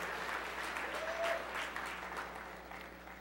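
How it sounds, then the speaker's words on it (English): A quiet, distant-sounding wash of audience applause for Dolly Parton at the GLAAD Media Awards, steady clapping that gradually fades over a few seconds. "applause for Dolly"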